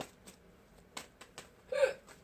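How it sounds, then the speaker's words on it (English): A person hiccups a few times in quick succession, with one louder, sharper hiccup near the end, close to the mic in a quiet room. "I got the hiccups this morning, apparently."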